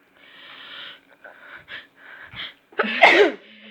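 A few wheezy, breathy inhales build up before one sharp, loud sneeze bursts out near the end.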